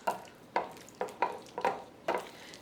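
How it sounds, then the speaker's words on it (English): A spoon stirs melted chocolate and butter in a bowl, giving six soft, evenly spaced scraping strokes close up in a quiet kitchen. "take it out after a minute and give it a stir."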